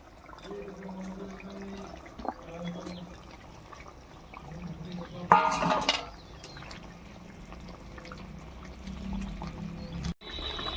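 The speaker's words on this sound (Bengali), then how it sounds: "এবারে ঝোলের মধ্যে ভেজে রাখা মাছগুলো দিয়ে দিচ্ছি।" Pieces of fried fish slide into a simmering fish curry gravy with boiled potatoes, giving a brief, louder splash and sizzle at mid-clip over a low steady bubbling background.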